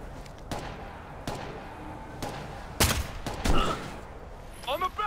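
Sharp gunshots from a sniper rifle and other weapons in the Ghost Recon: Future Soldier video game, scattered single cracks spread over several seconds with a louder double burst near the middle, mixed with game effects.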